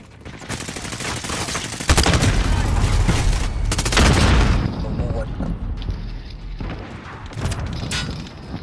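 Rapid bursts of automatic gunfire in Modern Warfare 2019 multiplayer, loud and repeated with heavy booms, while players talk over the shooting.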